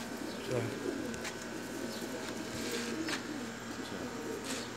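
Pigeons coo softly at a distance over a dense, noisy background of chatter and ambient sound.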